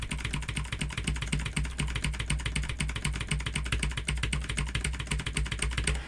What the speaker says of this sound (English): pressing Control E and then my right arrow like this